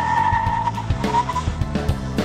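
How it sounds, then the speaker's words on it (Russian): Mercedes-Benz A-Class car in an extreme hard-braking test, with brief tire squeal and skidding against low road and engine rumble, loud and close. "Проверили торможение экстремальное."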